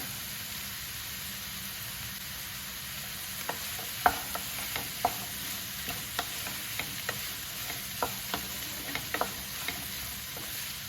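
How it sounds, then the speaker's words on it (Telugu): Sweet corn kernels and onions frying in a pan, a soft continuous sizzle under a string of sharp spatula scrapes and taps from stirring, close up with no talking. "మేము ఉల్లిపాయలతో పాటు స్వీట్ కార్న్ కానీ వేయించుకోవాలి"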